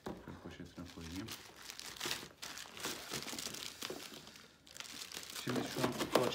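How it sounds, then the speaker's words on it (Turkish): A plastic bag crinkles and rustles in several bursts as an AHD CCTV security camera is packed into it during a camera-set unboxing, with someone talking over the handling noise. "Şöyle poşetine koyayım."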